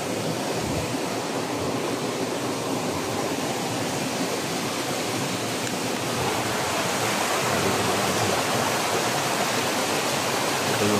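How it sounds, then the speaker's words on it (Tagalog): Creek water flowing steadily along a streambed, a broad continuous rushing wash that stays fairly loud and even throughout with no voices. "Ito yung sapa na yung inaanan nila."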